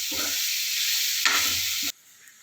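Onions sautéing in a pan for okra poriyal, a continuous bright sizzle of frying with a few soft stirring scrapes, close by, before the sizzle cuts off abruptly to near quiet.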